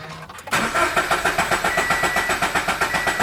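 A Subaru BRZ engine cranks with the clutch and gas pedals held down to prime oil after an oil cooler install. After a brief click, a rapid, even chugging of cranking pulses follows, close and loud, with no talking.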